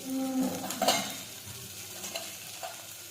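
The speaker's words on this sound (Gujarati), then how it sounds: "હવે આપણે સાતળી દઈશું।" Spices sauté in a pan, giving a quiet, continuous sizzle and fry with a few soft stirring scrapes. A brief clink sounds early on. The cooking is for a Gujarati chori (cowpea) vegetable dish.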